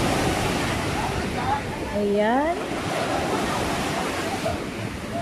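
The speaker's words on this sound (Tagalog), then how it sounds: "Ang lalaki ng alon." Big ocean waves roll onto the beach at Nasugbu, Batangas: a steady, close roar of surf with wind, and excited voices talking and exclaiming over it.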